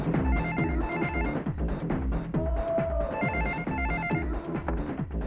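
A telephone bell rings continuously in a domestic scene from a 1996 Hindi film, a loud, insistent trilling ring that fills the whole moment, with no talk over it.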